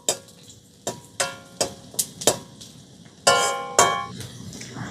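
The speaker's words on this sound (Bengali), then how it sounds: "শুকনো লঙ্কা আর রসুনটাকে আমি হালকা করে একটু নেড়ে ভেজে নিয়েছি।" Dried red chillies and garlic being stirred in a pan, a quick series of sharp scraping and clinking strokes, each followed by a short hiss of frying oil, close and fairly loud with no talk.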